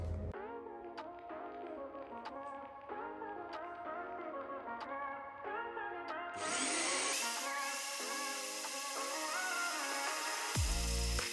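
Power tool cutting a metal intercooler pipe in a car engine bay: a steady whining motor with a tonal, pitched hum, shifting into a harsher, brighter grinding whine partway through, then stopping abruptly near the end.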